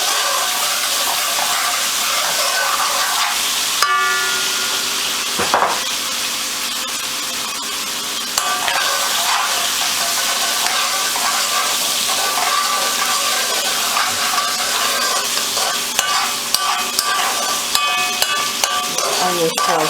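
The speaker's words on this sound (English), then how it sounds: "I'm going to take my onions and my peppers, put it in that oil." Onions and peppers fry in hot oil while being stirred for a Salisbury steak, a steady close sizzle running the whole time with occasional utensil scrapes and clicks.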